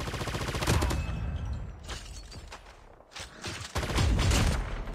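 Gunfire in COD Mobile, rapid bursts of automatic shots up close, with a short lull in the middle before a loud renewed volley.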